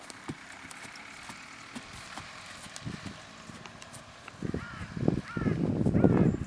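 Horse hooves clip-clop in scattered, uneven steps, quiet at first and growing louder and busier toward the end, with faint bird calls in the background.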